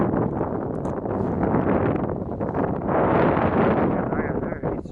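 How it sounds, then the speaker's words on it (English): Strong wind buffets the microphone out on a choppy lake beside a Seadoo boat. The roar of the gusts is loud and continuous, swelling and easing, with no clear voices. "It's really windy and choppy."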